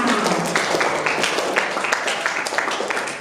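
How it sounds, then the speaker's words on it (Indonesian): Classroom applause rings out as a group of students claps together, a run of fairly close, uneven claps mixed with voices. "Tepuk tangan untuk kita semua"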